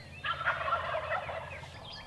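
Wild Rio Grande turkeys gobble in Kansas, a dense rattling burst of calls from several birds at moderate distance, rolling continuously with a softer call trailing at the end.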